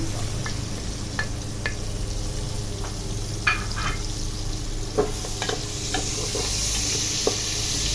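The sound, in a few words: onion and bay leaves sautéing in pan for pork calderita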